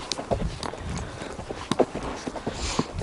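Horse hooves clip-clop at a walking pace along a country path through flowering rapeseed fields, a run of crisp, irregular strikes close by over a low outdoor background.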